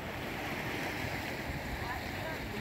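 Sea waves wash around a pontoon in Sharm el-Sheikh, Egypt, in a continuous rushing surge with wind noise buffeting the microphone, steady and fairly loud throughout.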